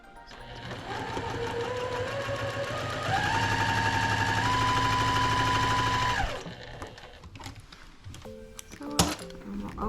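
A sewing machine runs steadily while stitching a diagonal seam joining table runner pieces, a fast, even mechanical whir that speeds up midway, then stops, leaving scattered handling clicks and rustles.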